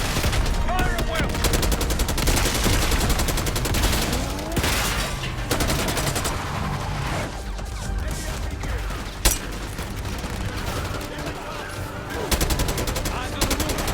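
Heavy gunfire fills a Call of Duty Black Ops 6 campaign battle, dense overlapping automatic bursts and single shots continuing without pause, with a loud crack near the nine-second mark.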